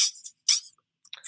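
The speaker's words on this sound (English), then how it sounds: "That's the sound of the drum loop with the flanger." A drum loop run through a flanger effect in Audio Tool gives bright, swirling hits in an uneven rhythm, with a short gap before sparser, thinner bursts return; close and alone with no voices.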